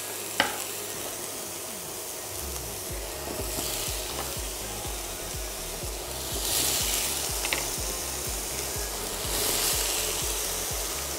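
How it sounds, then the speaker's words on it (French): Courgettes sizzle and fry steadily in a hot pan for a coconut-milk courgette curry, a dense continuous crackle with a few brief stirring clatters and surges, close and fairly loud, with no talking. "Je vais les laisser rissoler un petit peu aussi."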